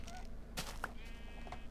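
Goats bleat in Minecraft, several short nasal calls spread across a quiet background, with one louder thump partway through.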